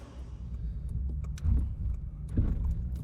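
An 8th gen Honda Civic Si pulls away, its engine rumble steady and fairly close, with a couple of brief swells in the low drone as it moves off; no one speaks.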